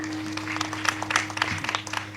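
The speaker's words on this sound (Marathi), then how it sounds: "टाळी वाजवा." An audience at a Marathi kirtan claps in scattered, uneven bursts over a steady low drone, moderately close, with no speech on top.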